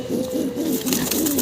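A pigeon held in hand gives a quick run of low, throaty coos, close and continuous over a faint background hiss.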